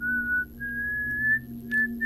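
A person whistles a steady, sustained melody up close in a quiet room during an animated Malaysian horror story, the clear tone running unbroken with a brief dip before resuming.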